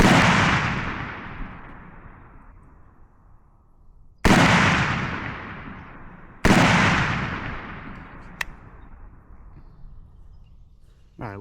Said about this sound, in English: Then I should shoot another shot and it should be good to go.